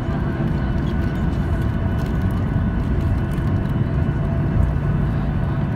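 Norwegian Boeing 737-8 taxiing after landing, heard from inside the cabin as a continuous low engine rumble and hum, steady and fairly loud throughout.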